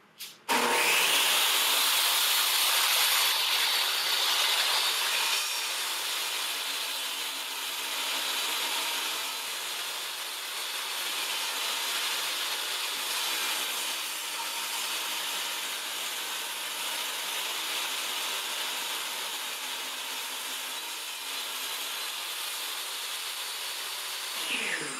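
A power saw trimming imperfections off a wooden cutting board in a woodshop, a loud sustained whining rush that starts abruptly and runs for the full length, easing slightly in level after the first few seconds.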